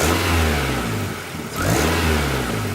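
A car engine on a test stand revs sharply twice as the throttle plate snaps open and shut, each blip rising into a loud mid-pitched roar and falling back toward idle, close and without talk.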